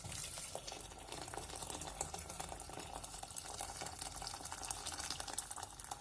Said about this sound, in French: Verse le reste de l'eau.